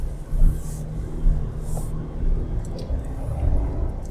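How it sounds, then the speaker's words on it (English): A 2022 Chevrolet Silverado Custom with a 4-cylinder engine accelerates, giving a steady low rumble that rises and swells moderately, with no talk over it. "That acceleration noise isn't quite what you'd expect. It definitely sounds like a 4-cylinder."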